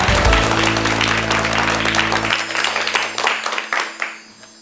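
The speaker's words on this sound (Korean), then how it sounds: "1강 박수로 청해 듣겠습니다" Audience applause welcoming a televised philosophy lecture, a dense wash of many hands clapping that fades out gradually, with a low musical tone under the first half.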